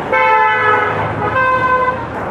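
A car horn blasts on a busy road in two long, loud honks, the second after a short dip, close by over engine and traffic noise.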